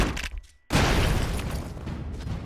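A loud explosion from the run-and-gun video game Broforce: a sharp boom after a short lull, followed by a sustained, roaring blast and debris rumble that fades slowly.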